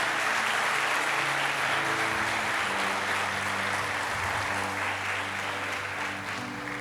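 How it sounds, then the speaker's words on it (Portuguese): A church congregation applauds during a Sunday service, a dense, steady wash of clapping that fills the space for nearly seven seconds and eases slightly at the end, with sustained tones underneath. "Aplauda o Senhor."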